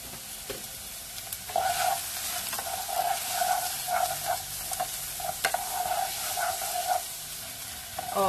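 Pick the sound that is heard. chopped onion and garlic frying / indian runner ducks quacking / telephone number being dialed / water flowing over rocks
chopped onion and garlic frying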